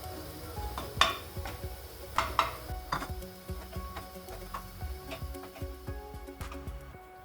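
Grated fresh coconut is dry-roasted in a kadai, with a spatula scraping and knocking against the metal in irregular strokes. A few sharper clinks stand out at first, then softer stirring continues, quiet and close.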